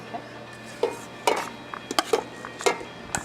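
Pasta being stirred together with a fresh sauce in a pan, heard as a few scattered clinks and scrapes of a utensil against cookware at close range, separated by short quiet gaps.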